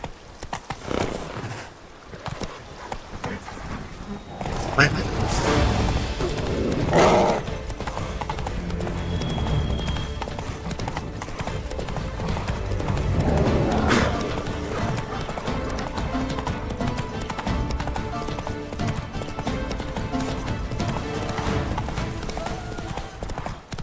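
Roach, the horse in The Witcher 3, gallops in a continuous rolling hoofbeat under swelling game music and ambience, with a whinny among the steady thudding rhythm.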